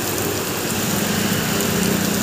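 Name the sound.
heavy rain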